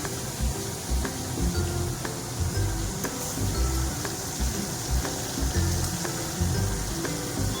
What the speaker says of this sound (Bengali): মাছগুলো ভেজে নেবো এখন অল্প অল্প করে, একসাথে দেওয়া যাবে না।